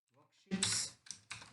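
Computer keyboard typing in short clustered bursts of clicks during code entry, moderately close, with a brief hum of voice just before the keystrokes.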